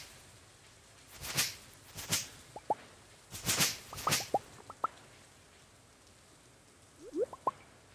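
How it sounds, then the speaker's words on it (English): Rain falls in Stardew Valley as soft, scattered splashes and swishing bursts over a quiet hiss, broken by a few light, high plinking drips. "I love the sound of the rain in this game"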